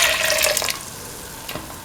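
Milk poured into a chickpea and bell pepper stew in a pan, a short close splashing, gurgling pour that fades to a quieter trickle.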